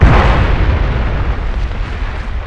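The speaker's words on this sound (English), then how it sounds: "I'm gonna blow the bridge." A bridge blown up with a detonator in the SOCOM video game: a loud, booming explosion hits at once, then a long rumbling roar fades slowly over a couple of seconds, with no talking.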